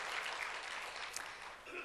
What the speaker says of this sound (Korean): 우리 하나님께 영광의 박수 한번 드리겠습니다.